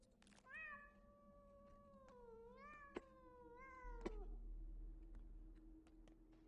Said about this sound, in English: I wonder if I can find the cat or if that's just like a sound effect